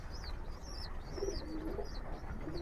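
Pigeons cooing softly in a loft, low repeated coos under faint chirps from other birds, moderately close with no talk.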